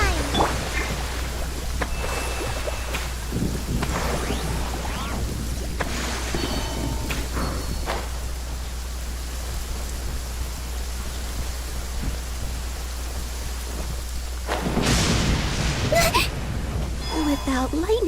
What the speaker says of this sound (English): Without lightning to give warning, the sound of thunder is quite plain.